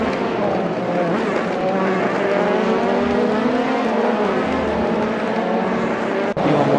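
Race cars in a Le Mans 5 Hours sim racing game roar continuously around the track, several high-revving engines layered together, loud and close, with a brief gear-shift dip near the end.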